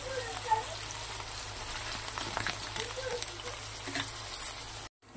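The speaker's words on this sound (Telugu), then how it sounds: "ఇప్పుడు కొంచెం జీలకర్ర వేసుకోవాలండి." Cumin seeds frying in hot oil give a soft, steady sizzle and crackle that runs fairly quietly through the whole moment before it cuts off abruptly at the end.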